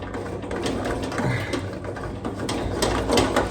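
A pipe threading machine cuts a long thread in a plumbing job at a pizzeria, producing a continuous mechanical whirring and chattering with rhythmic clicks, steady and fairly close throughout.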